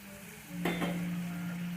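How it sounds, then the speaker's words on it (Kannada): Masala powder with cumin and coriander powder is stirred into fried ridge gourd in a pan, heard as a brief scrape and soft sizzle over a steady low hum, close and short. "ಇಷ್ಟನ್ನು ಆ್ಯಡ್ ಮಾಡ್ಕೊಂಡು ಚೆನ್ನಾಗಿ ಮಿಕ್ಸ್ ಮಾಡ್ಕೋಬೇಕು"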